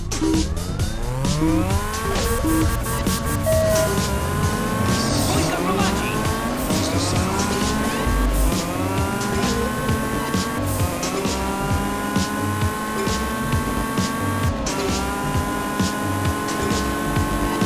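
Race cars speed around a track in Juiced 2. Loud engines rev and shift with rising and falling pitch, and tires squeal repeatedly throughout the continuous racing noise.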